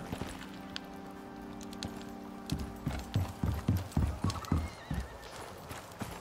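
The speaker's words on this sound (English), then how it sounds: "Just heard a horse somewhere." Horse in the survival video game Icarus, a whinny followed by a run of clip-clopping hooves that grows louder and nearer, with no talk.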